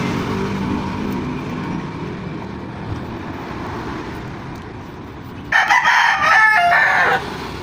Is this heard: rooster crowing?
yes